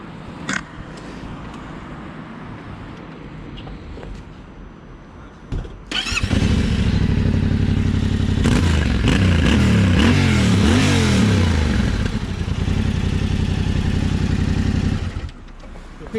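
An adventure motorcycle, a Yamaha Tenere T700 or a KTM 790 Adventure R, fires up after a quiet moment and revs loudly nearby in several rising blips before settling back to idle.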